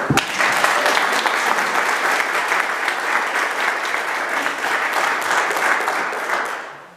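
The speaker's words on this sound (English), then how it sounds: "Let's give them a little round of applause." A room full of people at a scholarship event claps steadily for about seven seconds, dense and loud, then fades out at the end.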